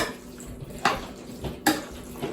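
Evaporated milk and other wet ingredients are poured into an eleven-cheese mac and cheese while it is stirred. Two sharp spoon-against-pot clacks come over a soft liquid wash, with no talking.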